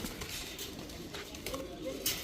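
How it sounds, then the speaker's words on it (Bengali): White pigeons coo softly in a loft, low murmuring calls under a busy background with a voice present nearby. "দেখেন সাদা কবুতর, কত সাদা কবুতর চান।"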